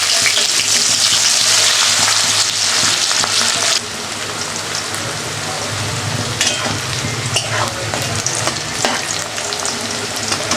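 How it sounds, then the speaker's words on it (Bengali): Onions fry in a little extra oil left over from frying potatoes, in a loud sizzle that drops partway through and then crackles on with scattered pops and stirring scrapes, close up and with no talking. "আলু ভাজা তেলের মধ্যে আমি আরেকটু তেল দিয়ে দিলাম, আর পেঁয়াজ দিয়ে দিলাম।"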